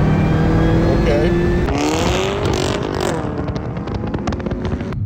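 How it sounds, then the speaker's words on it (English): Cadillac CTS-V engine revving and accelerating from inside the cabin, a loud rising drone with shifting pitch and a gear change midway, heard close and steady with some voice mixed in. "When he stepped on the gas right there, it just went forward"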